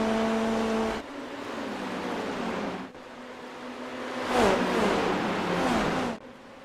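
Open-wheel race cars in the iRacing sim accelerate off a green-flag start at Milwaukee, engines revving and shifting up in overlapping whines over a steady roar, the pitch changing as cars pass.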